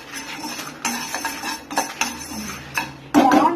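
A spoon stirs roasted spices and a pinch of asafoetida in a hot pan for tamarind rice mix, making close, sharp metallic clinks and scrapes in irregular bursts, the loudest at the end.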